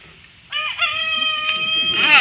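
A rooster crows loudly and close by at an outdoor wedding ceremony, one long drawn-out crow that starts abruptly and holds to the end over a quiet background.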